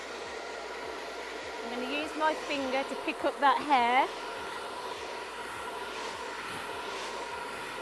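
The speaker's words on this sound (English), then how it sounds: "I'm going to get my hairdryer on." A hairdryer blows steadily on medium heat and fast speed during a blow-dry, a close, constant whooshing hum while a voice talks over the middle stretch.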